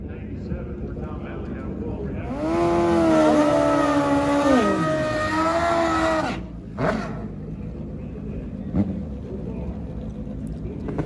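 An old-school Kawasaki KZ drag racing motorcycle screams down the strip at a national championship event, its loud engine note rising and sweeping through gear changes before cutting off, with race commentary talking over it.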